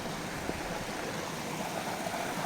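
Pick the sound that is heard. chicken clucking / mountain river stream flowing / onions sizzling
mountain river stream flowing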